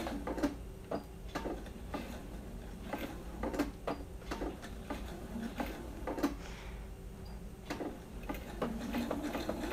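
Domestic sewing machine stitching through pillow fabric, a steady run of sharp ticking needle strokes with a low mechanical hum underneath, close and fairly quiet, with brief pauses between bursts.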